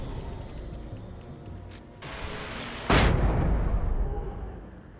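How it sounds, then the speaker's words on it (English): A flashbang goes off in the Alan Wake video game, a sudden sharp blast followed by a decaying rumble and ringing tail over a steady game background, loud and close. "Okay, flashbang, we'll just take those things right out."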